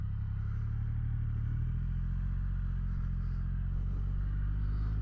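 A 2025 Triumph Rocket 3 GT Evel Knievel Edition, a heavy 700-pound motorcycle, rumbles steadily on an open road, its deep engine drone loud and continuous with wind noise and no talk.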